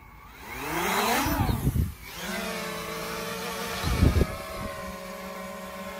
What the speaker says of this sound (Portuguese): Vamos ver se ele já ligou as hélices.